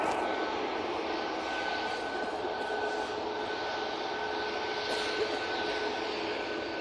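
A Ryanair airliner takes off from Manchester Airport on a warm morning, its jet engines a sustained, even rumble and hiss that stays steady throughout at mid distance, with no talk over it.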